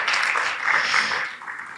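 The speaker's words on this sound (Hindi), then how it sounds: "ताली बजा सकते हैं वैसे" Audience clapping at an ISKCON gathering, a short burst of blended applause from a crowd that thins out toward the end.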